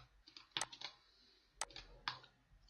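Faint sharp clicks from a computer mouse or keyboard, a handful of separate taps spaced unevenly in a quiet room.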